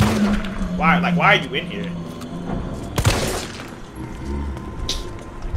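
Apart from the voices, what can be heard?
gunshots in Resident Evil 3 Remake video game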